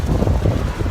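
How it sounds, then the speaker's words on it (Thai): Strong typhoon wind gusts roar across an outdoor street, buffeting the microphone with loud, continuous rumbling turbulence. "ลมแรงมากนะครับ"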